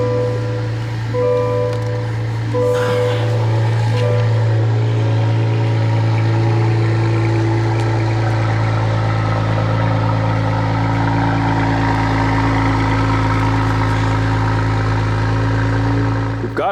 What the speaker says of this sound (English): This will be a cold start of the CT4-V Blackwing.